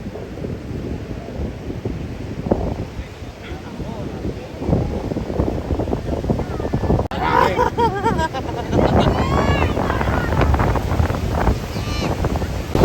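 Steady, strong storm wind in Zambales, Philippines roars and buffets the microphone throughout, with muffled voices and rumbling gusts underneath.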